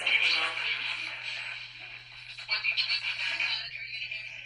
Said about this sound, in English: Is that normal of the spirit box to make these weird gremlin noises?